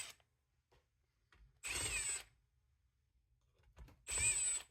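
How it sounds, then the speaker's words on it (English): Impact wrench loosening long bolts on a McCulloch 1-72 chainsaw during disassembly, heard in two short loud bursts of buzzing, hammering rattle separated by quiet pauses. "So I'm going to loosen them with the impact."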